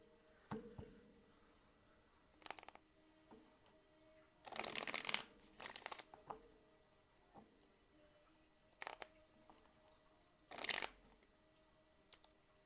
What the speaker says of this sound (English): Tell me when to stop shuffling, okay?